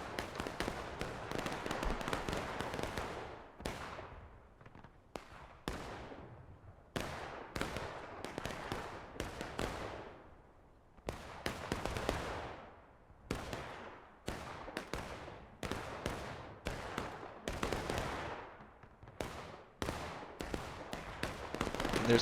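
Cannon artillery fire in the Civil War game War of Rights, a long barrage of sharp booming blasts, some close and loud, others overlapping in rapid clusters, with brief pauses between volleys.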